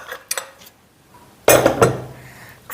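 Stainless steel pressure cooker parts are handled, giving a few sharp metallic clinks and clatters, with a louder cluster of knocks near the end. The weight is among the pieces being handled.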